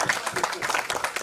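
An audience at an academic session on the Asian century gives a short burst of scattered clapping, mixed with a voice talking over it.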